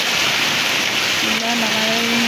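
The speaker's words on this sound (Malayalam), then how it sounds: "നല്ല മഴ, കുറേ മഴ, കാറ്റും മഴയും" Heavy rain with wind pours down steadily and loudly as a dense, unbroken wash that fills the whole clip, with a brief voice and a faint tonal sound rising over it near the end.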